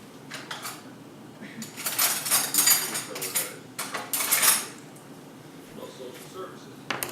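A spoon scrapes and clinks against dishes while whoopie pie cakes made from cake mix get filled, bursts of scraping and tapping in a kitchen with quiet gaps between.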